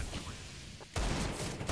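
Gunfire in a Counter-Strike: Global Offensive match, a short loud burst of shots cutting in abruptly after a quieter moment, with faint game ambience before it.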